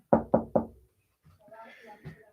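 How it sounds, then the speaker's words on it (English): Three quick, loud knocks on a wooden surface in an even rhythm, followed by faint indistinct voices and background shuffling. "Let's knock on wood."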